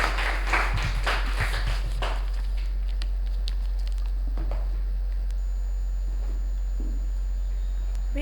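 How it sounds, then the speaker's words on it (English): A meeting audience claps to welcome a speaker, a short burst of scattered applause that dies away within about two seconds, leaving a few stray claps and a steady low hum. "help me in welcoming the first speaker of the day. With a round of applause."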